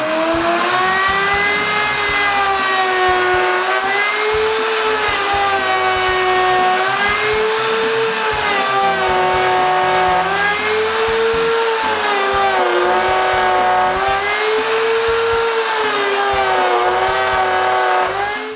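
A power tool cuts mortises in wood against a clamped stop block in a shop, producing a loud, steady, high whine whose pitch rises and falls in repeated waves as it works, with no talking.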